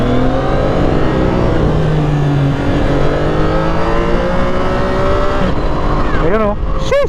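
A CF Moto 675SR inline-three sportbike revs hard through rising gears, its loud engine note climbing and dropping with quick-shifter cuts, ending in rapid sharp rev blips; a voice talks over it.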